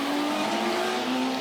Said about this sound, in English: So the cars head off on their formation lap